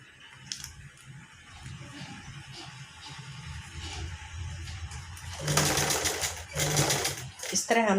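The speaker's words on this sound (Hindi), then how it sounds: "इस तरह हमने सिलाई कर देनी है।" A domestic sewing machine stitching fabric loops onto a blouse sleeve, running in short near bursts with quiet handling sounds between, then a louder whirring stretch near the end, with a voice talking faintly underneath.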